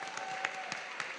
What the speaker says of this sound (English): I feel like we should give them a round of applause.